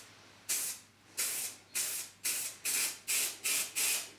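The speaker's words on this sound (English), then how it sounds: "invert the can and give that a spray, and that will clean out the nozzle ready for next time." An inverted spray paint can is sprayed to clean its nozzle, giving eight short sharp hissing bursts, each about a third of a second, in a quick steady rhythm, close and clear with no talking.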